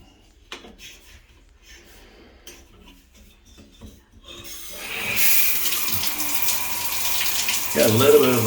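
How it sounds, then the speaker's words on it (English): Water runs from a leaking faucet during a move-in home inspection; after a few quiet seconds with faint handling clicks, a steady hissing stream starts and continues, growing slightly louder near the end. "Got a little bit of a leak right there on the water faucet."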